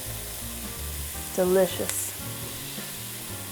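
Vegan ground meat and onion frying in a pan, a steady close sizzle with stirring scrapes, and a voice briefly speaks over it partway through.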